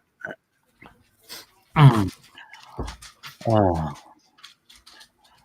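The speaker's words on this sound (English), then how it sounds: "I got my dog barking" A few sharp dog barks, moderately close, separated by short pauses, with quieter sounds in between.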